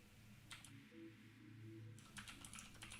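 Quick bursts of computer keyboard typing come in short clattering runs with a pause between, close and quiet over a low steady hum while setting up a live stream.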